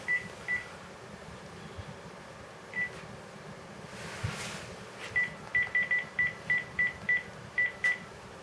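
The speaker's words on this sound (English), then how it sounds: "Let's give him a call on the phone." A phone number is dialed as a series of short touch-tone beeps, a few isolated tones at first and then a quick regular run of about ten, faint over low room hum with no talking.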